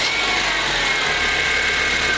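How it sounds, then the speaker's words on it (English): Engine of a 2010 Honda Civic running steadily with its AC condenser fan whirring, a constant mechanical drone with a low rumble that drops away about halfway through. "Now we're going to go ahead and start the engine to make sure that that's the issue and that the fan is now working."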